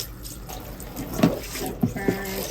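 Cold tap water runs into a tub while dyed yarn is rinsed, a steady close wash of splashing with a few louder gurgles and sloshes as the yarn is moved.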